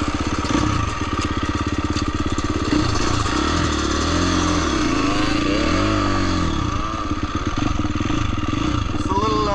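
Dirt bike engine running steady and close, with varying revs as the bike pulls away and rides off, its mid-pitched motor note continuous throughout.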